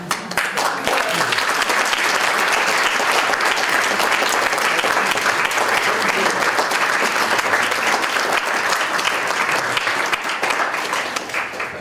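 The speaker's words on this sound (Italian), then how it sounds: "Applauso." An audience at a talk on "Lacci" breaks into sustained applause, a thick, loud wash of many hands clapping for about twelve seconds before thinning slightly at the end.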